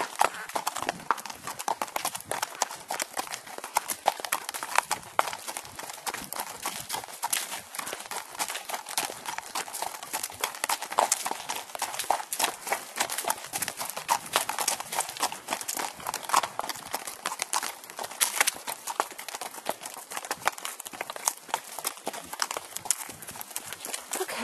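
An eight-year-old gaited quarter horse walks steadily, its hooves clip-clopping in a quick, even rhythm through the whole stretch, fairly close and moderately quiet, with no talking.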